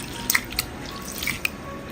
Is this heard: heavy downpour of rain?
no